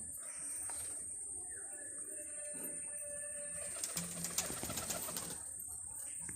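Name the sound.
pigeons at a home loft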